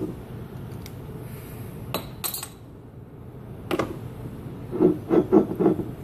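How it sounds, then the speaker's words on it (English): A home-brewed beer, about 4.2% ABV, is opened and poured into a fancy glass. A short hiss and a few glassy clinks come first, then a cluster of close, rhythmic glugging pours near the end. "I'm going to crack it, get it in the old fancy glass"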